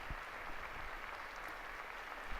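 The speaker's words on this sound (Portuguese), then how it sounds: "O aplauso" Faithful and pilgrims applaud at a papal general audience with Pope Francis on a Wednesday, a steady, dense wash of distant crowd clapping filling the whole stretch at moderate level.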